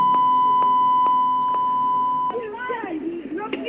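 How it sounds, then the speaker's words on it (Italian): Censor beep from a TV broadcast, a steady high tone that runs for a little over two seconds over a scuffle scene with swearing, then cuts off as a person starts talking. "i bip sono perché non c'erano delle parole da educande"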